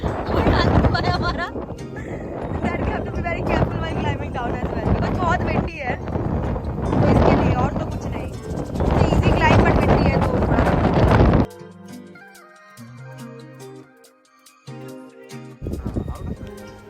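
Strong wind on a fort descent route buffets the microphone in loud, roaring gusts for several seconds, then drops away to quieter background with music.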